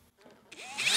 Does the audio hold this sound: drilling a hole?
yes